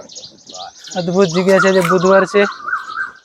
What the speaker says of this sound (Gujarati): કોયલ પણ બોલે છે.